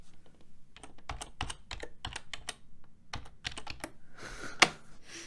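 Computer keyboard keys clack in quick bursts of close, crisp presses while shift is held down, with a brief pause midway and a sharper final tap near the end; no talking.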